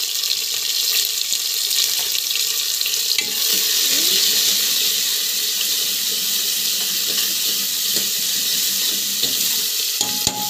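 Onion sautés in hot oil with mustard seeds, cumin and chana dal, giving a loud, continuous hiss and sizzle. Occasional scrapes and taps from a stirring utensil sound close to the pan.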